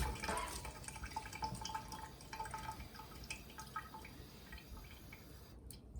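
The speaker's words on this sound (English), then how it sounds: "we need to have the flow a little bit slower so that the water can actually fill up from the bottom to the top and run straight through the filter" Water trickling and dripping slowly through a water filter as it fills from bottom to top, a steady close patter of small drips running throughout with no talking.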